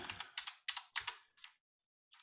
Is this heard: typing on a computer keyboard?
yes